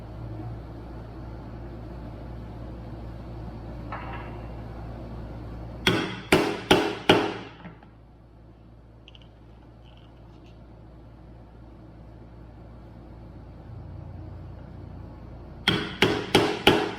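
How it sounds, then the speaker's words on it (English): Metal chisel struck with a hammer to punch stitching holes through three layers of leather for a sheath: a quick run of four sharp, loud taps, a quiet stretch, then another fast burst of four taps over steady background hum. "Now we got all of our holes punched where our stitches are going to be"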